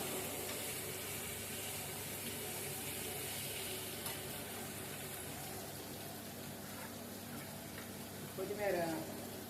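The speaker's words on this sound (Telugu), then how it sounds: "ఇంకా పలావ్ కూడా ఏగుతుంది మసాలా." Pulao masala of brinjal, tomato, green chilli, onion and ginger paste fries in a pan with a steady, faint sizzle, and a spoon stirs and scrapes briefly toward the end.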